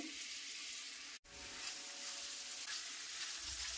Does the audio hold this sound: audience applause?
no